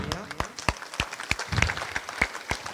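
Scattered claps ring out in an uneven, sparse rhythm, a small group applauding briefly at close range at an eye camp in Berasia, India, with some faint background murmur.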